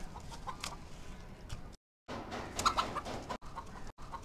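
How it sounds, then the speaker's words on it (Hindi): A hen clucks and flaps her wings as she flies up, with a rooster nearby; the sounds come in bursts at moderate volume, broken by a short silence. "देखा आपने कि ये मुर्गी उड़ती है, ये बहुत ज़्यादा उड़ सकती है।"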